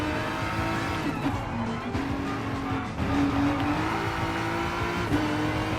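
Volkswagen GTI Gran Turismo 6 Edition racing in Gran Turismo Sport during a Gr.3 Cup event, engine droning steadily while tires squeal in repeated drawn-out bursts amid other cars close by.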